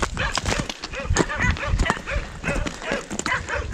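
Several dogs bark loudly and repeatedly in a rural Romanian village with fields and black Angus cattle nearby, with overlapping voices and outdoor noise mixed in.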